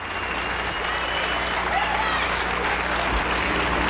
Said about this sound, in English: let's have a nice round of applause, ladies and gentlemen, for our finalists in the Professional American Rhythm Open 5-Dance Championship